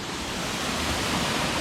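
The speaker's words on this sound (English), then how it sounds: "we're here at Bulalacao Falls. There's 2 tiers of falls up there." Bulalacao Falls, a two-tier waterfall in El Nido, Palawan, roars as a steady, dense, broadband rush of falling water, loud and constant with no other sounds.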